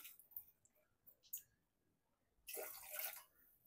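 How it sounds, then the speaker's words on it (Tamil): A small extra amount of water is poured into a cooking pot of baby food for a 6–7-month-old. A few quiet clicks come first, then a brief, close splash of pouring near the end. "கொஞ்சம் தண்ணி மட்டும் எக்ஸ்ட்ராவாக ஊற்றிக்கிறேன்"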